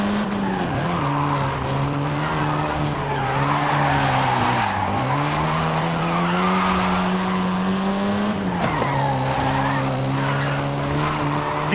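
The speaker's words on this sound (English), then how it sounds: "This version is the Volkswagen Golf R" Seventh-generation Volkswagen Golf R driven hard in Forza Horizon 5, engine droning steadily near and loud with pitch dipping at gear changes and tires squealing through the run.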